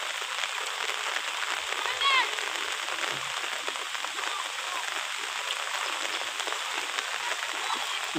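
Heavy rain pours steadily on a wetland during fishing with a current net. It is a constant, dense hiss of rain on the surface, near and loud, with no break in the downpour.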